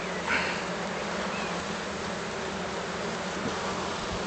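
Black honeybee colony swarming during a spring hive inspection, a dense, steady buzz of many bees close by, loud and constant throughout with no talking.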